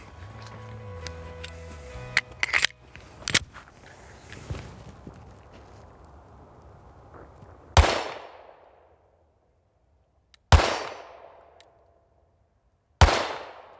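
A 9mm concealed carry pistol fires three loud, sharp reports outdoors, each trailing off in a short echo, spaced a few seconds apart after a stretch of handling noise and clatter.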